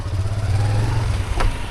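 A motorcycle engine on a mountain road near Harsil, a steady mid-pitched idle-like drone heard close by, with a brief louder rev near the end and no talking.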